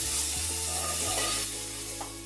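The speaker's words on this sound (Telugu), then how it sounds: "మసాలా వేసాక అడుగంటకుండా ఇట్లా ఫ్రై చేసుకోవాలి." Masala paste frying in a pan over medium flame for a fish curry, producing a soft, steady sizzle under a low background hum, fairly faint and close.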